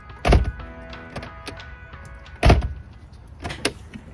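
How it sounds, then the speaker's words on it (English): A Mercedes W123 car door shuts with two solid, loud thunks about two seconds apart, followed by lighter latch clicks and small rattles, with no talking. "Behold, the door will now close perfectly."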